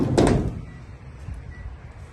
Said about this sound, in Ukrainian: бокові двері здвижні.